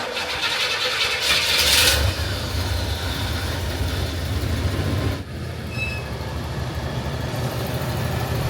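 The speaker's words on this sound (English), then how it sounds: "'75 Buick LeSabre." A 1975 Buick LeSabre engine runs at an outdoor classic car show, giving a loud, steady broadband roar and rumble with a brief swell near the start.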